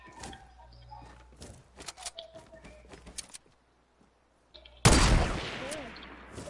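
Video game gunfire: a scatter of sharp, fairly faint sniper shots and pops, followed after a brief silence by one loud, close blast with a trailing roar.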